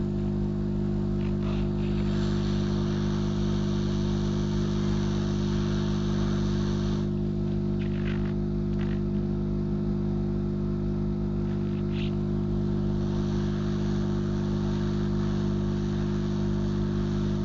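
A handheld heat gun runs steadily during an LED bulb repair, giving a constant loud hum and airy whoosh with no break for the whole stretch.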